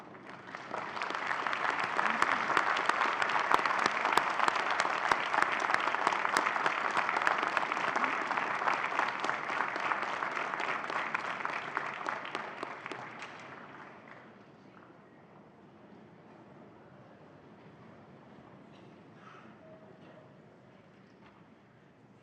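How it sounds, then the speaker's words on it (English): Sustained, loud applause from graduates at an autumn university convocation, a dense roar of clapping that holds for about thirteen seconds and then fades into quiet hall ambience with faint scattered sounds. "give them a warm round of applause for supporting your journey"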